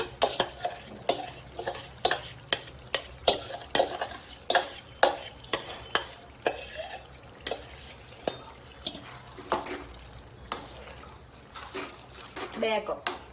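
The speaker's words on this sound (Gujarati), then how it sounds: "તુવેરની દાળ મિક્સ કરીશું." Repeated scraping and clinking of a metal spoon stirring toor dal into a pot after tempering, a steady rhythmic series of sharp knocks, close and fairly loud, with a faint steady hum beneath.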